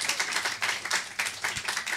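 An audience claps in a burst of quick, uneven hand claps, close and lively, rising and falling in small waves.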